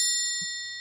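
A single bright bell ding rings out clearly and then decays smoothly over about a second, leaving a sustained metallic shimmer in an otherwise quiet space.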